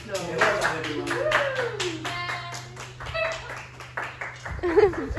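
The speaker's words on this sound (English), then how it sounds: "Let's have a round of applause." A small group claps at home after a rescued bird has been freed from a chimney, irregular hand claps close by under speech and a steady low hum.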